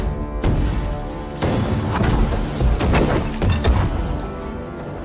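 Cannons fire during a battle scene in an Indian historical film, several sharp, loud blasts and crashes over a dense, continuous roar of battle sound.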